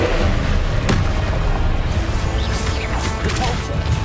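A Confringo blast detonates in Hogwarts Legacy battle, heavy booming impacts and crashes layered with crackling bursts, dense and loud across the whole stretch.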